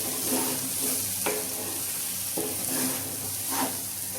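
Spices, turmeric and dal stirred into khichdi in a large wok (kadhai), a steady soft sizzle of frying under scraping stir strokes, with a couple of sharp clinks from the spoon against the pan.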